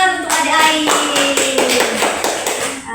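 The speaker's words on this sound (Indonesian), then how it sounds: "Mari kita tepuk tangan untuk adik Ai." Children clap their hands together at a school health talk, a quick burst of sharp, overlapping claps that fades toward the end, with a sustained tone and faint voices beneath.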